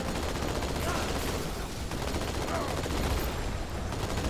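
Sustained gunfire from the Halo 2 Outskirts level, a dense continuous wash of rapid shots and explosions that stays loud and steady throughout.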